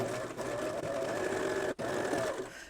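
Serger sewing a cover stitch on an apron, a steady fast mechanical whir running nearly continuously at close range with one brief pause.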